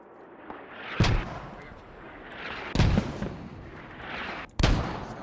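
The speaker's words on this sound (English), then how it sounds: "He's got sniped from far." Sniper rifle shots ring out during a competitive team shooter quarter-final match, BLUFOR vs TLR: three sharp, heavy cracks spaced about two seconds apart, each with a rolling tail over a low ambient wash, with no talking.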